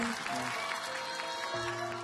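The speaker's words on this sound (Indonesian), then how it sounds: "Boleh tepuk tangan untuk Tasya" A studio audience claps for Tasya, a contestant on a televised talent competition, brief scattered applause under music and background voices.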